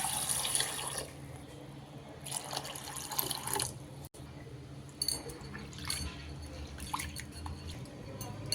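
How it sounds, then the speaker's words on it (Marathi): Half a cup of chana dal (split chickpea lentils) is swished and rinsed in a bowl of water, making soft, quiet splashes, drips and sloshing bursts that come and go over a low background hum. "मी हा अर्धा कप डाळ मी धुवून घेणार आहे"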